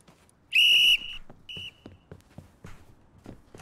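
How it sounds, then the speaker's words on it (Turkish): A sharp, shrill whistle blast rings out, followed by a shorter second toot, with faint footsteps and shuffling around it. "Düdükle beraber."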